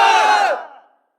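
A crowd in a stage play shouts a short, loud response in unison to a Takbir slogan, a burst of massed voices that fades away within about a second.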